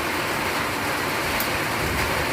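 Steady broadband hiss of rain falling continuously, even and unbroken throughout, with no voices.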